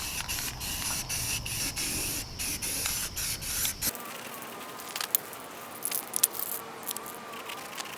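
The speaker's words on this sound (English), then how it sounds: "So I'm just going to go ahead and give her and throw some flat black on here" Flat black spray paint goes onto wheel rims in a series of loud, close hissing bursts for about four seconds. The spraying then stops, leaving quiet room noise and a few light metallic clinks.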